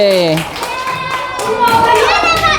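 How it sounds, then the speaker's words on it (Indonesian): Classroom clapping greets a presenting student group, a short, close patter of hands mixed with children's voices talking over it. "Tepuk tangan buat kelompok 6."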